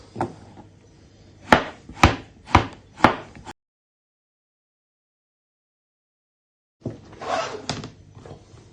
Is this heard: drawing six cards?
no